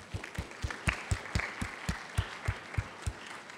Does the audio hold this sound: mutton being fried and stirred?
no